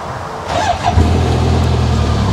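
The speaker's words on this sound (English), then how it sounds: "now I'm going to hop into the driver's seat and start it up" A car engine cold start: it cranks briefly and then catches, settling into a steady, loud idle close by.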